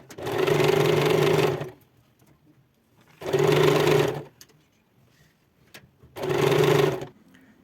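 A sewing machine stitching fabric for a homemade bandage runs in three even bursts of about a second each, separated by quiet pauses, close and loud with no talking.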